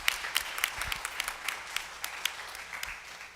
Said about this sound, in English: let's give another big round of applause for our Butler County champions